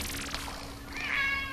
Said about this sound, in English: Oh, sounds like a kitty, Ditty.